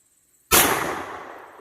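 A single sharp gunshot from a 9mm pistol firing a 90 grain round into a gel block, cracking loud and close, then decaying into a long fading tail with no talk.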